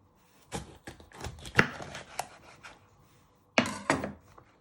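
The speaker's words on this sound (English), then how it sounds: "You first chop off your end." A knife chops the end off a pepper on a chopping board, giving a series of close, irregular thunks and knocks, with a short burst of cuts near the end.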